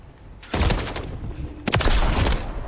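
Loud bursts of gunfire in a shooter video game, two heavy volleys of rapid shots with dense reverberant rattle, close and dominating, with no talk over them.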